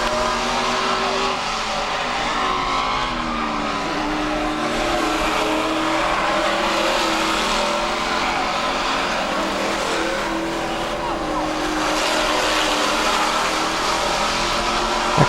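Race cars charging into the third and fourth corners at a New England oval, engines droning and shifting pitch as the pack passes, loud and continuous with no talk over it.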